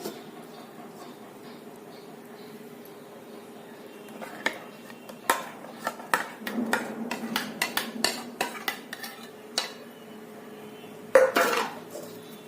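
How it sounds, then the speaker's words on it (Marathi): A cooked mixture of jaggery and raw mango is poured through a large-hole strainer, quiet at first, then a run of metallic clinks, taps and scraping of utensils close up, ending in a louder clatter. "आता हे तयार झालेलं मिश्रण आपण गाळून घ्यायचंय या पद्धतीचं एक मोठ्या छिद्राचं गाळणं घ्यायचं आणि त्यांनी हे गाळायचं"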